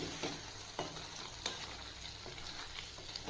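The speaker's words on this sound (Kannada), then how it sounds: "ಈರುಳ್ಳಿ ಕ್ಯಾಪ್ಸಿಕಮ್ ಮೇಲೆ ಚೆನ್ನಾಗಿ ಮಿಕ್ಸ್ ಮಾಡ್ತೀನಿ" Onion and capsicum frying in a pan for a street-style paneer kathi roll, a soft steady sizzle with a few spoon scrapes as the vegetables are stirred, quiet and close.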